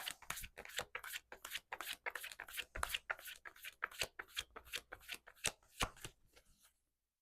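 Tarot cards riffled and shuffled in a rapid run of crisp flutters and taps, close and fairly quiet, stopping near the end for a tarot reading on love.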